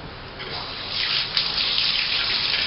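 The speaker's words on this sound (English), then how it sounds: "pass some cold water into the basin" Cold tap water runs from a faucet into a basin, a steady hissing splash that swells slightly louder after the first second and continues evenly, with no talk over it.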